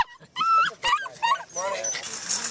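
Dogs at an animal fair yip and whimper nearby in short, excited bursts, high whines overlapping with sharp little barks.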